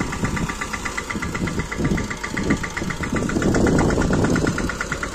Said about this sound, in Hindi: देखो यहाँ पे एक लेवल पे अच्छी तरह वो कर रहे हैं हमारे पापा ट्रैक्टर से